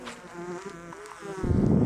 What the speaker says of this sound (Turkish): Arımız kameranın önüne geldi.